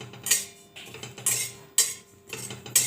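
Ajwain seeds dry-roasted in a kadhai, the spatula scraping and rattling against the metal in a few rhythmic strokes, close and moderately loud, with no talking.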